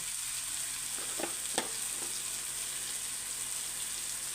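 Spices such as coriander powder and cumin powder frying in oil, a steady hissing sizzle with a few soft stirring clicks near the middle, close and even, with no voices.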